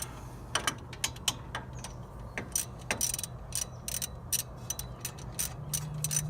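Ratchet wrench with an 18mm socket tightening wheel hub bolts on a 2005 Dodge Ram 1500, a quick series of sharp clicking bursts close up, with brief pauses between strokes and no talking.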